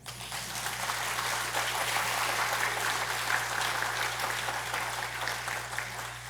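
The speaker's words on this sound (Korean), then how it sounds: "박수 쳐줘야 되는 거 아니에요?" Audience applause during a sermon at a Won Buddhist service, a sustained wash of many hands clapping for several seconds, steady and fairly loud, with no talk over it.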